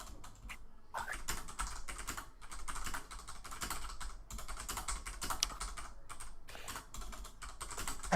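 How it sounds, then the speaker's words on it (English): Close, busy key clatter from a mechanical keyboard, with fast continuous bursts broken by brief gaps and no voices. "I did pay for a mechanical keyboard just for this reason."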